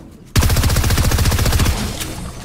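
A fast rattling burst of automatic gunfire in Fortnite, close and loud, runs for over a second of rapid evenly spaced shots before fading into a short echoing tail.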